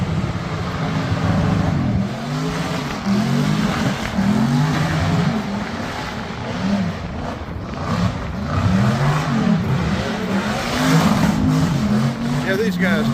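A hot rod does a burnout at a barbecue car meet, its engine revving in repeated rising and falling swells with tire roar close by, while people talk underneath.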